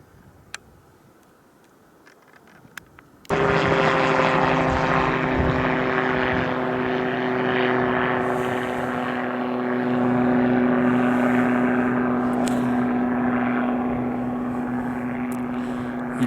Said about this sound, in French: les hélicoptères aujourd'hui, waouh, ça n'arrête pas